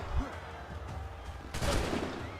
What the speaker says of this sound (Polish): Wow, strzelają do mnie.